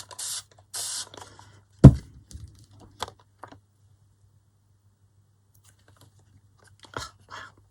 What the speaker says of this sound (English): Spritz this.